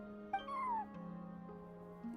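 Cat in Genshin Impact giving a single short meow that rises and then falls, fairly soft, over a quiet held musical drone with no speech.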